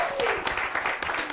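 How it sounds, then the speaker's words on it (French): Audience applause and cheering at a food and drink event, a dense crowd clapping throughout with a voice calling out over it. "On applaudit Nico!"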